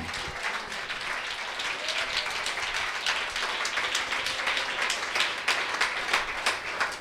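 A church congregation claps in steady, sustained applause, a dense wash of many hands filling the room without a break and no voices on top.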